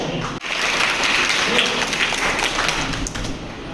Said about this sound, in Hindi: बिल्कुल सही आंसर के लिए ताली बजाइए।